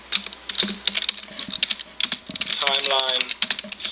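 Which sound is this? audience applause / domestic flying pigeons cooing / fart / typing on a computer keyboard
typing on a computer keyboard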